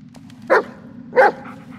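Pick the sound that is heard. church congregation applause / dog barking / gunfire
dog barking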